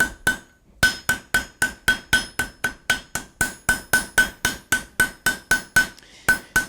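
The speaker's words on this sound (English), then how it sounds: "you just want to put some hammer marks up and down it" A hammer strikes a steel barbecue spoon at the forge, about twenty sharp ringing blows in a steady, even rhythm after a brief opening pause, each hit bright and metallic with a short decay, up close with no talking.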